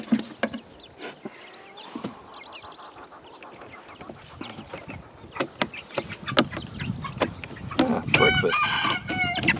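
Chickens cluck and squawk close by in a backyard coop as baby chooks are settled into a new home, the calls sparse at first, then growing into a busy, louder flurry of clucks and cries near the end.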